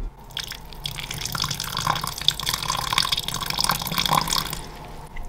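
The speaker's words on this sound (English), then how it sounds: "And pour some of that water in." Water is poured into a terrarium, giving close, splashy trickling and dripping with small bubbling bursts throughout.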